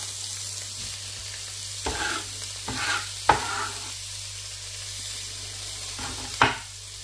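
Onions and peppers fry in a pan and are stirred, giving a steady low sizzle with a few sharp utensil scrapes and knocks scattered through, and no voices.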